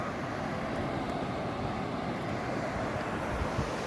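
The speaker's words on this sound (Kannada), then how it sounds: "ಬೀಚ್ ಹತ್ರ ಈ ರೀತಿ ಇದೆ" Evening beach with steady wind and crashing waves, a constant loud roar of surf and wind buffeting the microphone, no voices.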